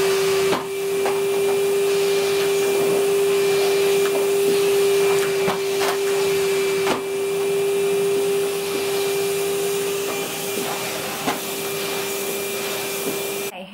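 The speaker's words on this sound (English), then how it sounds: "I've hoovered the whole house." A Hoover vacuum cleaner runs steadily through a house, with a loud continuous drone and a constant hum, broken now and then by brief clicks and bumps as it moves along.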